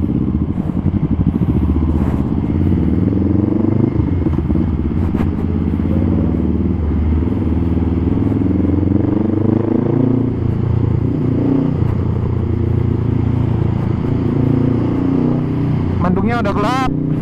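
A 2020 Honda Rebel 500 cruiser motorcycle on a test ride in Surabaya, its engine droning loud and steady throughout with shifting revs, wind rush and road clatter, and a brief sweep near the end.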